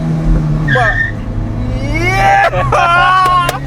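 A 14-year-old Maruti Swift diesel car driving loudly close by, its engine revving and whining with rising pitch, mixed with tire squeal, while people speak excitedly over it.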